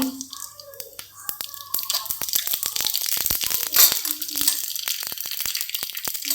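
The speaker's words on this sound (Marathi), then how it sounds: "इकडे तेल गरम करायला ठेवलं होतं त्यामध्ये थोडीशी मोहरी" Mustard seeds dropped into hot oil in a kitchen pan, a dense burst of sharp crackling pops and spluttering sizzle, close and fairly loud, with brief speech at the start.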